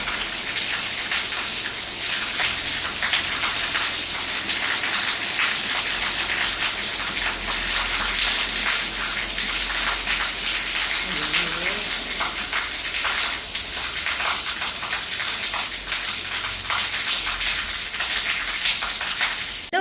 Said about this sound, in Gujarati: જો ભયાનક વરસાદ આવી ગઈ